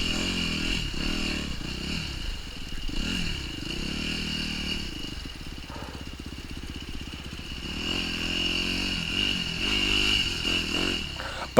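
A KTM 150 or YZ250F dirt bike rides single track in the Moab, Utah desert, its engine droning and revving steadily under wind buffeting, with occasional clatter from rough ground and no talking.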